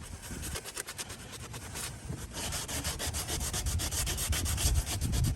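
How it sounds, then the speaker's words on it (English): Regular sandpaper rubbed by hand over a car body panel in a driveway, a continuous gritty, raspy scratching made of quick back-and-forth strokes that grows slightly louder and rougher toward the end. "So now we're doing it with the regular sandpaper."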